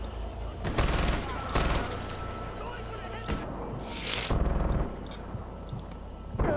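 Gunfire from a sniper rifle and other weapons in the Far Cry 4 video game, a few sharp bursts spread through a busy, noisy in-game mix.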